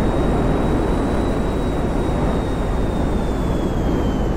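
A steady, loud engine roar from an aircraft coming in to land in GTA 5 Online holds constant and unbroken throughout, with no other sounds.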